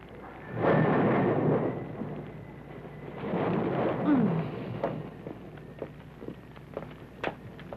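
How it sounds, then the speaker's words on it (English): Distant thunder from a brewing storm in a movie scene rolls in two long, low rumbles, followed by softer scattered crackles, with no talking over it. "There's a great storm brewing, but it's still at a distance."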